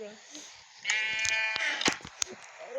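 Sheep bleat in a wavering, nasal cry amid a bit of Minecraft one-block skyblock game noise, with sharp clicks and thumps around it.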